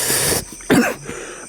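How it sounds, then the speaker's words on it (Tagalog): A man coughs in a short, harsh burst at close range, followed by a quieter throaty catch; no talk is heard. "Inuubo ka ba bro?"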